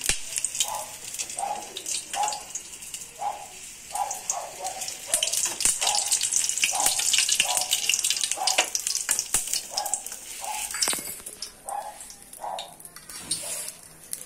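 Paneer pakoras fry in mustard oil with a loud, close sizzle, broken by repeated bubbling spurts and crackles at a rough, uneven rhythm that keeps going for over ten seconds, with no one speaking.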